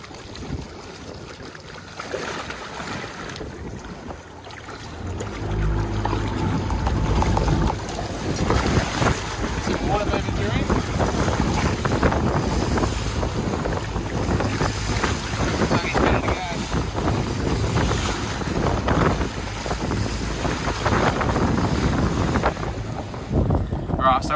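A boat engine rumbles and builds in intensity while fighting a black marlin off Mooloolaba, joined by heavy wind buffeting and water noise, loud and continuous throughout.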